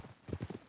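Horse hooves clip-clop in Red Dead Redemption 2, a quick run of muffled, close hoofbeats in an uneven trotting rhythm, fairly quiet and without talk.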